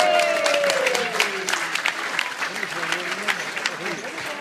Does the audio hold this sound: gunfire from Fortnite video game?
no